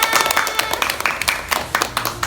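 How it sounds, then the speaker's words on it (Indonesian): Audience applause with scattered clapping from a group in a school setting, a brief burst of sharp claps that stays moderately loud and fairly dense throughout. "Ya, tepuk tangan buat kita semua."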